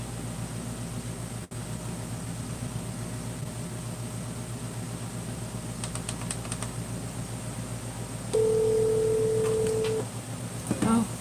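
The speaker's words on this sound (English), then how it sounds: "I'm getting ready to dial the number" A telephone number being dialed during a live prank call, with short keypad tones over a steady hum, followed by a longer sustained tone near the end.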